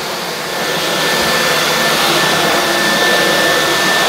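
A Dyson V12 Detect Slim cordless vacuum runs in boost mode as a loud, steady, close-up whine and rush of air, rising slightly in the first second and then holding even, with no talking.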